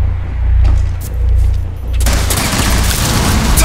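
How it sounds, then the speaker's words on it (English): Gunfire in Rainbow Six Siege: a low rumble and scattered shots give way to a sudden dense, loud burst of rapid fire that continues to the end. "He turned and shot his own teammate"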